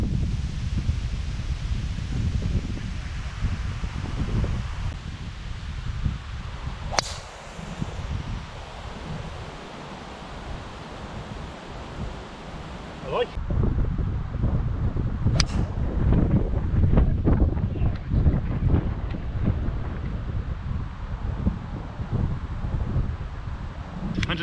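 Wind gusting across an open golf course buffets the microphone with a steady low roar, broken by a few brief sharp knocks and rustles; no one speaks.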